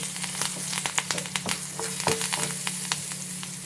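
Curry leaves sizzle and crackle in hot oil while prawns fry, a steady close hiss broken by frequent sharp pops and spatters.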